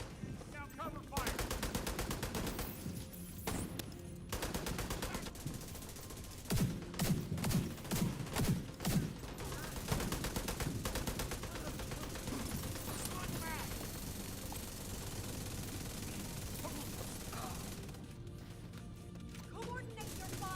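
Covering gunfire in a video game: repeated automatic bursts and rapid shots crackle through a steady battle din, with clustered volleys in the middle and game voices talking over the fire.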